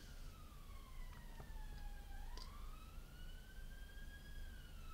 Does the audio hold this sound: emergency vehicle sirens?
yes